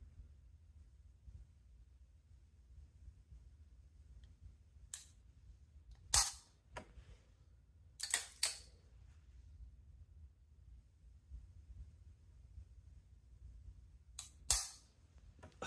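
Crisp trigger-reset clicks from an Atlas Artemis pistol with a sub-2-pound trigger pull, heard as a few sharp snaps, single and in quick pairs, spaced several seconds apart over a quiet background.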